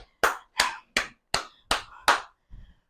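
Six sharp, close claps ring out at an even, steady pace during a home glute workout, each crisp and distinct against silence, followed by a softer final tap.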